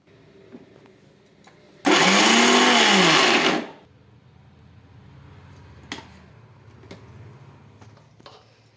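A mixer grinder whirs loudly for about two seconds while grinding a homemade hair-dye mixture, winding up and cutting off sharply, with quieter handling knocks and clicks before and after.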